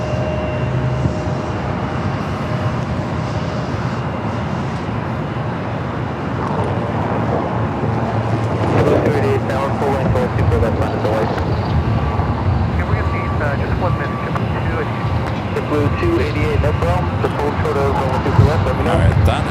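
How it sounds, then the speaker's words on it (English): JetBlue Airbus A321 jet at LAX on a flight to Boston, a steady broad engine roar that swells slightly midway and holds, with a voice talking over it. "JetBlue flight heading to Boston, flight 288,"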